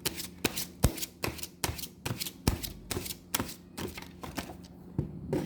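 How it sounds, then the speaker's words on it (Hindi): A deck of tarot cards being shuffled by hand, with a steady run of crisp riffling flicks close to the listener. "last shuffle"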